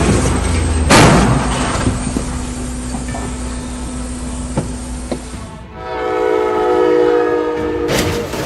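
A train collides with a truck at a crossing: a loud broadband crash bursts early amid steady rail rumble, and a sustained train horn blares near the end.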